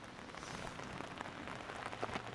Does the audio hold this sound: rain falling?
yes